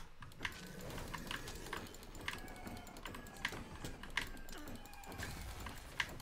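Typing on a Redragon Fizz K617 60% magnetic-switch gaming keyboard, a steady run of soft, fairly quiet key clicks with occasional louder taps, close up and alone.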